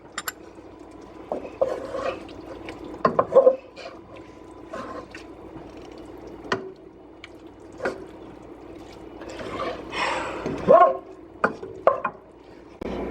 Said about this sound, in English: And I'm going to stir it again.